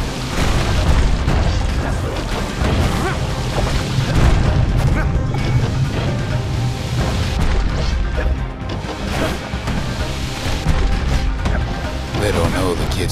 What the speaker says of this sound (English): They aim to smash Weepin' Nellie to splinters.